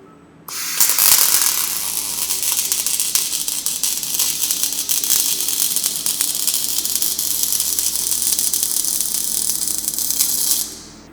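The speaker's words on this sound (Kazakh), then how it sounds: "Енді бұл аппарат жұмысын бастайды, екі жағын дәнекерлеп шығады." An automated plasma-cutting and welding rig runs a weld along both sides of a part, giving a steady loud hiss and sizzling crackle that starts abruptly, holds evenly for about ten seconds over a low hum, then cuts off.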